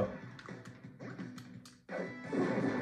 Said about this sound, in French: je tire une grenade